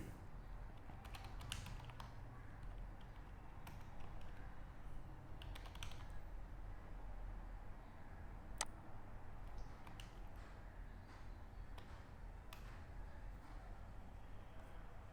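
Someone types dummy data on a computer keyboard, soft irregular key clicks and taps that go on for about fifteen seconds at low volume in a quiet room.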